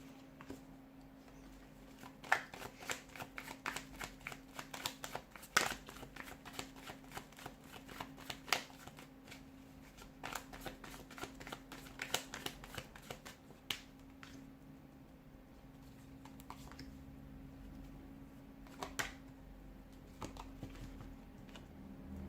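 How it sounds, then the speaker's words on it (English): Crisp, rapid tarot card shuffling with repeated riffles and flicks, fairly close, over a low steady hum; no voices. "give the cards a shuffle"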